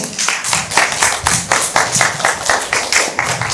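A congregation at a church service claps for a teacher called to the front, a steady run of distinct hand claps, fairly close and moderately loud, with no talk over it.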